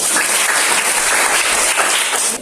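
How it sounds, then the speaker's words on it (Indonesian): A classroom of students gives a round of applause for a classmate, a loud, dense burst of clapping that continues steadily from start to finish without talk. "Berikan aplaus untuk"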